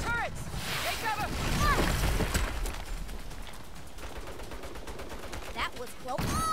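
Turret gunfire in the Saints Row video game bursts out in loud, dense volleys amid chaotic action, with people shouting over the shooting throughout.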